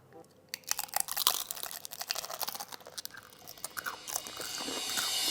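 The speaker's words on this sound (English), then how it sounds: "We're gonna bite into the homemade Cheez-Its." Homemade one-ingredient Cheez-Its bitten and chewed near the mic, a run of irregular crisp crunches and crackles that starts after a short quiet moment and carries on to the end with no talking.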